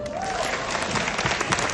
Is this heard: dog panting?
no